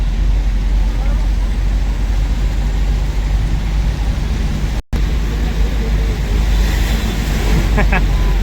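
Vehicles and scooters splash through a flooded street, a loud rushing wash of water and engine rumble under wind noise, with voices talking nearby and a short dropout midway.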